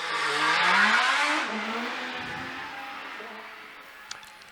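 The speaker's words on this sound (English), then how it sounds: "It'll be Andy in the GR55 with its V6 Opel engine." A Coley GR55 hill climb car with a V6 Opel engine at a Shelsley Walsh hill climb event accelerates away, its engine rising loud then fading into the distance as it climbs.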